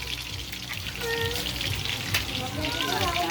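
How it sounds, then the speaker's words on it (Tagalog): Tilapia fish frying in oil produces a close, continuous sizzle with some bubbling, while a voice is faintly audible in the background. "ito na yung piniprito natin"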